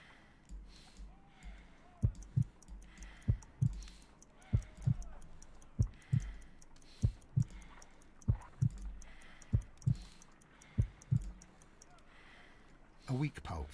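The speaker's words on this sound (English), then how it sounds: "I need to concentrate and count the heartbeats." A slow, steady heartbeat in a Sherlock Holmes video game thumps in regular doubled pulses, clear and close, repeating evenly for over ten seconds against a quiet background.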